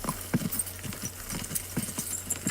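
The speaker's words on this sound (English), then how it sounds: "this is still the fastest horse in the game" The fastest horse in a video game gallops along with a steady, rhythmic clip-clop of hooves at moderate loudness over a low background hum.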